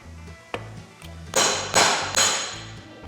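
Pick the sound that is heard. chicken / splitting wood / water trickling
splitting wood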